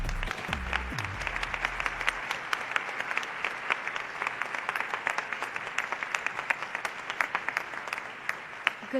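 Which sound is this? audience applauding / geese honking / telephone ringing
audience applauding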